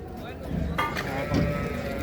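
Sheep bleating at a crowded livestock market in Çorum, several animals calling close by among a dense murmur of people talking and general crowd noise.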